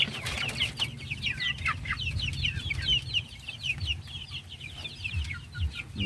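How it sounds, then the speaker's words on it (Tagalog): Chickens and small chicks cluck and peep continuously on a farm in Libertad, Daanbantayan, Cebu, a busy overlapping chorus of chirps over low farmyard rumble. "Dami ng mga piso ito guys."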